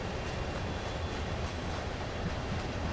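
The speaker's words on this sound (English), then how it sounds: "Wet train." Steady rumbling rush of a wet train running in Train Sim World, broadband and constant, with faint rhythmic wheel clatter and no voices.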